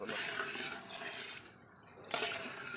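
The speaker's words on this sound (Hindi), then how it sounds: "चम्मच जो है मसलसल चलाएंगे" A spoon stirring semolina halwa in a pot with melting sugar makes soft, continuous scraping and swishing, close but quiet, in two bursts separated by a short pause.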